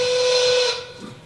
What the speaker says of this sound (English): We have to blow the whistle because the robots don't know when to stop work.